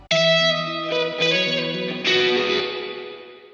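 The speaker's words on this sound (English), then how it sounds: "The reverb part sounds like it has a lot of dirt." Guitar notes and chords ring out through the gritty, splashy spring reverb of GarageBand/Logic Pro AmpDesigner's boutique reverb, each strum trailing off in a dirty, metallic wash.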